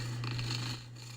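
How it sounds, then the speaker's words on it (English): A house cat purring up close, a low continuous rasping rumble lasting about a second and fading slightly toward the end. "Is the kitty cat purring?"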